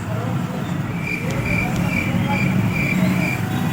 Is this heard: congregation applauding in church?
no